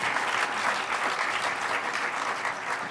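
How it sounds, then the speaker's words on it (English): Loud, dense applause from a conference audience for presenters, continuous clapping filling the room throughout without talk. "A round of applause for all the presenters who came in under time."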